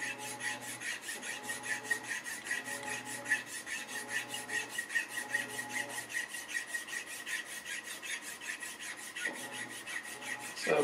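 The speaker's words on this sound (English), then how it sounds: "we'll kind of finesse it with these files" Hand files shape a guitar nut in quick repeated strokes, a soft, even, rhythmic rasping close to the listener, fairly quiet and steady throughout, with no voices.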